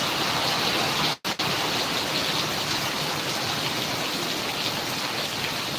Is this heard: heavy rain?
yes